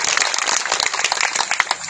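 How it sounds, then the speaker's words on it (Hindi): Crowd at a political rally clapping loudly for Modi, a dense burst of many hands with sharp individual claps standing out in an uneven, energetic rhythm. "मोदी जी के लिए जोरदार ताली।"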